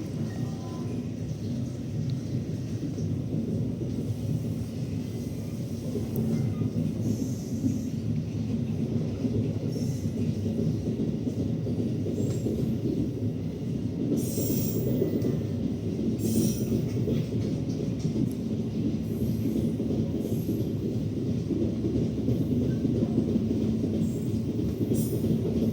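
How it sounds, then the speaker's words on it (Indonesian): The Progo passenger train departs Gombong station, rumbling steadily along the rails, a continuous loud low roar with faint wheel squeals and clatter, building slightly as it gets under way. "kereta api Progo berangkat dari stasiun Gombong"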